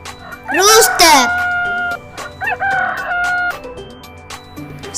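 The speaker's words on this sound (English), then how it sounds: "Rooster." A rooster crowing in a children's farm animal lesson, two loud cock-a-doodle-doo calls in close succession over soft background music, near and prominent.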